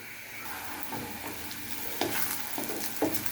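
Onions frying in a pan give off a steady close sizzle, with a couple of sharper spatula scrapes and taps near the end, quiet and without voices.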